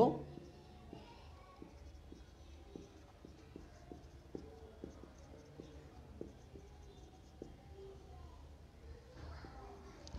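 Chalk or marker taps and scratches on a board in a steady run of short strokes as a physics definition is written out for a class, quiet and close beneath a teacher's ongoing speech.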